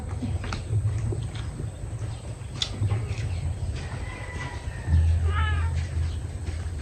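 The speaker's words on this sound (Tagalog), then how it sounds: "Saka mga pusa." Cats meowing close by, with a few drawn-out rising and falling cries over steady background noise and faint voices.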